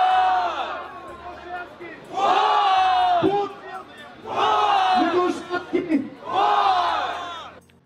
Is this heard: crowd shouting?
yes